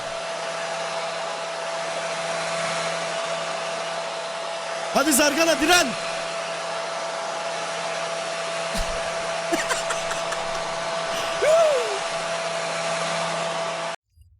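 A hair dryer used as a weapon in a video game blows with a steady, loud whir throughout, with a voice briefly talking over it.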